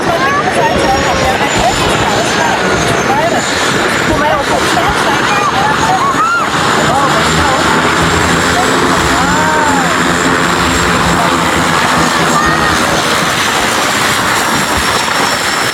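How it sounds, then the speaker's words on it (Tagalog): Propeller seaplane passing low over the sea near the Denmark coast, a loud continuous engine drone that stays strong throughout, with excited voices talking over it. "Dumaan sa dagat yung eroplano nila."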